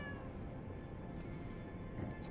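A cat in the game Lies of P purrs and meows softly, the quiet steady purr running continuously beneath a dense wash of ambient sound.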